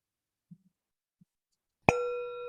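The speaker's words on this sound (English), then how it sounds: "So we'll begin with a bell and we'll end with a bell." A meditation bell rings once to open a session, a single clear struck tone that sustains and rings on after a couple of faint soft taps in near silence.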